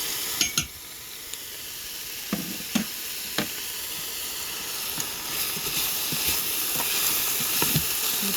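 Chicken and vegetables sizzle and hiss steadily in an Instant Pot, punctuated by occasional sharp clicks and taps of utensils against the pot.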